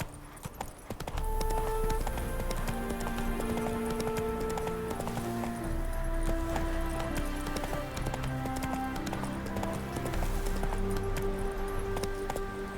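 Hooves of Geralt's horse Roach from The Witcher 3: Wild Hunt clop steadily at a gallop, a continuous rhythmic pounding beneath a loud orchestral music score that plays throughout.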